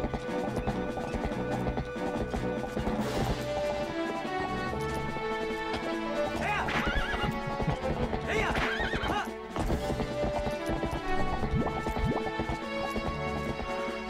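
Epona, the horse in the GameCube game The Legend of Zelda: Twilight Princess, gallops with loud, steady hoofbeats and neighs a few times over constant game music, with a crash partway through.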